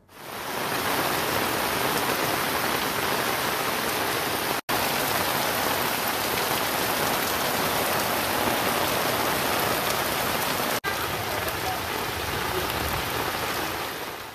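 Heavy rain pours steadily and loudly over Tamil Nadu towns such as Tiruchendur and Thoothukudi, a dense unbroken hiss that floods the roads, with two brief cuts in the sound.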